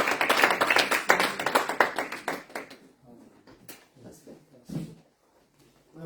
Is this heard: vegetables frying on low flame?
no